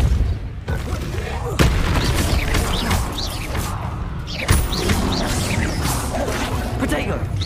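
Depulso spell effect from the Mission Hero video game: dense, continuous game audio of booming impacts, crashes and whooshing bursts, with sharp hits near the start and middle, loud and busy throughout.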